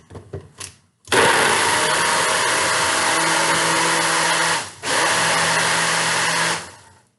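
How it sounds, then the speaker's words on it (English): Blender whirring at full power as it mixes ice into a keto iced coffee drink, loud and close, with one short dip midway before it winds down; a few light knocks come just before it starts. "Bring this blender in close."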